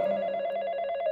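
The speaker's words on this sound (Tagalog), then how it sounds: "At sakto, tumunog ang kanyang hawak na telepono." A handheld telephone ringing as a sound effect in a narrated hospital ghost story: a steady warbling electronic ring with a rapid trill, continuous and fairly loud throughout, with no voices.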